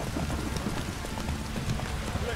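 Roach the horse gallops in The Witcher 3, a steady rapid clip-clop of hooves running continuously under game noise, fairly close and even in loudness throughout.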